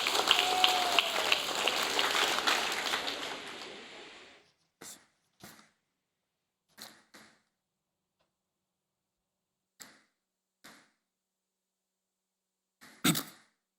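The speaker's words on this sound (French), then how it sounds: "Nous applaudissons bien fort, s'il vous plaît." Applause from an audience at a ceremony commemorating the 190th anniversary of the abolition of slavery, a dense clapping burst lasting about four seconds that fades into silence, followed by a few scattered short claps.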